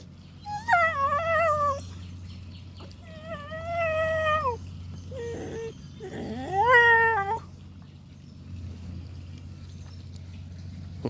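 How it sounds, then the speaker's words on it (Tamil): A native Indian country dog whimpers in a run of about four drawn-out, wavering whines, close and fairly loud, with no talking. "இது வந்து நாட்டு நாய் தான் நினைக்கிறேன்"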